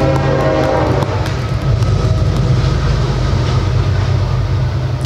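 A train passes close by with a loud, steady rumble, and a sustained horn tone runs through the roar. Faint rhythmic rail clicks are mixed in.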